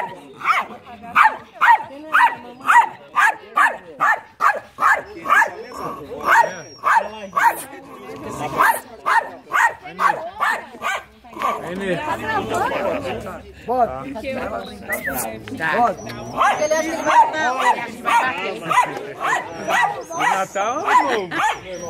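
A dog barks in a steady run of sharp, repeated barks, then a mix of yips and whimpers with people talking nearby, during a New Year's celebration.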